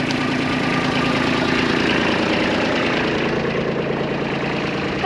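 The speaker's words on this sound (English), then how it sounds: "So let the tractor run and we'll get to dumping some water on these plants." A farm tractor engine idles steadily, a loud, continuous low rumble with a mechanical knock that holds even throughout, with no talk over it.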